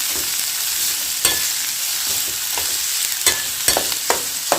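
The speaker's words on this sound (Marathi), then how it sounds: "एकच सेकेंड कांदापात तेलात भाजून घेऊया" Spring onion greens fry in hot oil with a constant hiss, broken by occasional scraping stirs that grow more frequent toward the end, close up with no talking.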